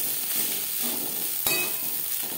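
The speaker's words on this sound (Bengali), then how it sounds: "কাঁকরোলের সাথে কাঁচা লঙ্কা বেশ ভালো করে মিক্স করে দেবো।" Spiny gourd fried with coconut and slit green chillies sizzles steadily in a pan, with light stirring and one sharp utensil knock midway, close and continuous.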